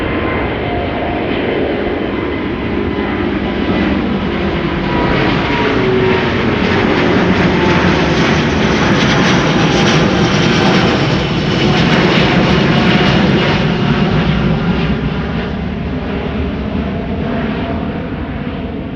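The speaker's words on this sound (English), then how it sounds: "Next up, Delta Airlines flight 243 to Boston, Massachusetts." A Delta Air Lines jet, flight 243 bound for Boston, roars loudly at Amsterdam Schiphol, its close, steady engine thunder holding strong and peaking slightly midway with no voices over it.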